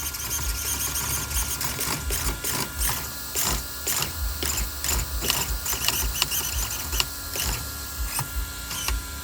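Fast steering servo on an Arrma Limitless RC car, paired with a Max6 4985 motor, whirring in repeated quick sweeps; sharp mechanical buzzes and clicks at a steady rapid rhythm, close and fairly loud, with no talking.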